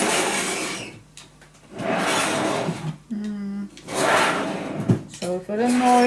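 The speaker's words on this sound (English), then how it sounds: "So for the noise for my drawers." Small drawers of a handmade scrapbook mini album slide open and shut several times, making soft scraping rubs interspersed with brief squeaky tones, close and moderately loud, with no speech.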